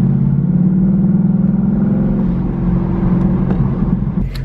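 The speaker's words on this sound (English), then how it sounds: "Sounds so good for being a stock exhaust." A Ford Mustang with a stock exhaust idles and revs with a deep, rumbling exhaust note, steady and loud throughout, dipping slightly before rising again near the end.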